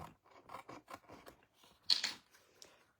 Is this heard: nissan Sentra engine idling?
no